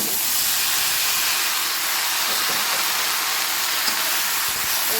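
Bottle gourd fries in a pan for an Assamese pani lau dish, giving a loud, steady hiss like steam that holds even and unbroken from start to finish, with no voices.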